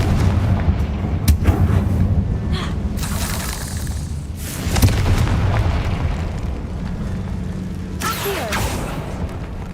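Confringo fire spell exploding in the Hogwarts Legacy video game, a catacomb fight: a loud crackling burst over a constant rumbling game soundscape, with more bangs near the middle and end.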